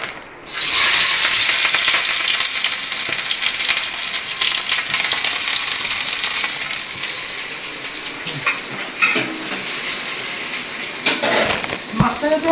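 Mustard oil heats in a pan for frying onions, giving a loud, steady, close hiss and sizzle that runs throughout with small crackling shifts, and no talk over it.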